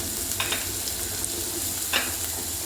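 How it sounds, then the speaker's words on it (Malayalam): Onions with ginger-garlic paste and tomato sauce sizzle in a pan at a steady, fairly quiet level, with a few brief stirring scrapes over the continuous frying hiss. "അതുകൂടെ ഇട്ട് നന്നായിട്ട് വഴറ്റിയെടുക്കാം നമുക്ക്"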